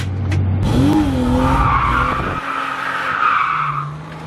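A car with a welded differential drifts and skids at a drift night, its tires squealing loudly and continuously under engine noise for several seconds, close by and without speech.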